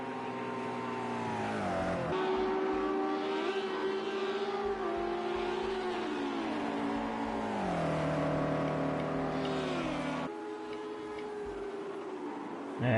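Race car engines in Project CARS 2 at Spa-Francorchamps, droning steadily with rising and falling pitch as the cars weave to warm their tires, with no one talking.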